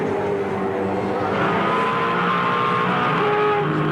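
V8 Supercar race cars at full speed around Phillip Island, a steady loud engine roar with shifting pitch as several cars run close together, no pauses.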